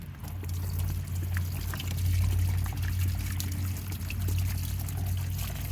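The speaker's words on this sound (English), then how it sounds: "Next step, pour some vinegar." Vinegar pours over rusted weights in a continuous trickling stream, close and moderately quiet, running the whole length with light splashes and no talk.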